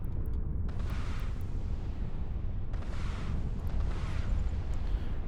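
A rocket volley from a Hawk frigate slams into targets in the EVE Online Abyss, heavy booming impacts rolling over a constant deep rumble, with a few separate blasts spaced across the stretch.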